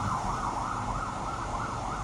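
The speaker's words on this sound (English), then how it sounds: "let me let the siren go by for a minute" An emergency vehicle siren wails in a steady rising and falling pattern as it passes on the road, loud and continuous over low traffic rumble, with no talking.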